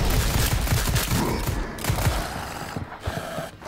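Rapid gunfire from Call of Duty Zombies, a dense burst of shots with mechanical clatter that thins out midway, loud and close with no talking over it.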